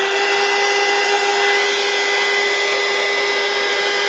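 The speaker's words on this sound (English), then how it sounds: "I'm gonna turn my heat gun on." A heat gun runs steadily in a craft room, a constant airy blower roar with a whining tone throughout, loud and close with no pauses.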